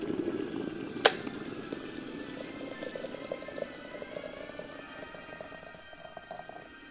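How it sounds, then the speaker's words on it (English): Water rolling at a full boil for brewing tea, a steady low bubbling wash that runs throughout, with a sharp single click near the start. "Now make sure the water is boiling."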